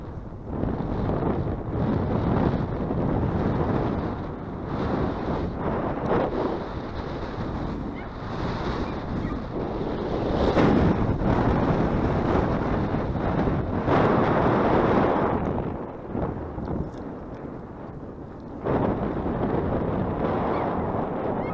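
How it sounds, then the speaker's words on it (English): Strong wind roars and buffets a microphone outdoors at a catfish pond in Bradley, Arkansas on a cold day, a loud continuous rumbling gusting throughout with no voices. "Extremely windy, so this video will probably be set to music again"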